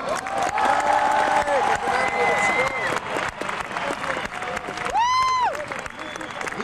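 A concert audience applauds and cheers loudly and steadily, with a few whoops and a whistle-like tone rising through the crowd noise, at a concert in Brussels, 1993.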